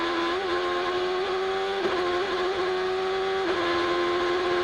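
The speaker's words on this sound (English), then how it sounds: "Let's listen to this Ford Cosworth motor sing here in Houston." A 2006 Ford Cosworth Champ Car engine screams at high revs during the Houston street race, steady and loud with brief lifts and gear shifts, no talk over it.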